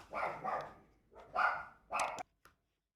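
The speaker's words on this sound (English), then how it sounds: "Sorry, I had to go and deal with the dog." A domestic dog barks several times in short, muffled bursts, moderately distant, in an otherwise quiet room.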